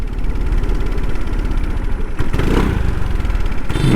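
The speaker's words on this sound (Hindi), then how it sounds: "देखिए पूरा एक्सीलेटर दबा के रखा हूँ, एक एक बार करके ले रहा है" A vehicle engine held at full throttle sputters as its petrol runs out, a loud, close, uneven chugging with a few sharp catches and stumbles before it falters.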